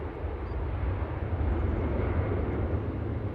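A Boeing 787 Dreamliner descends toward landing at Manchester Airport, a steady, fairly loud low jet rumble without voices throughout.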